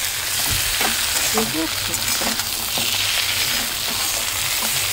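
Ash gourd curry with chopped coriander sizzles in a pan over a lit gas flame while a spoon stirs it with scraping clinks, close up. A voice speaks briefly.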